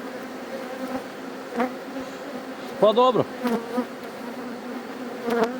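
A strong honeybee colony hums loudly during a hive inspection after seven days, a dense steady buzz close by with occasional sharper passes, and a person speaks briefly over it.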